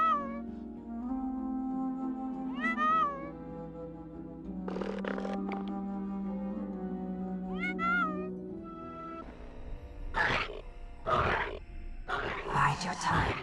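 Several cats meow in an Everquest game cutscene, rising and falling mews over a droning musical score, followed by breathy animal growls and grunts near the end.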